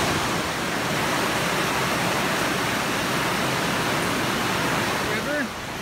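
A river swollen by tropical storm flooding runs bank to bank, making a loud, continuous rushing roar that stays steady and close throughout.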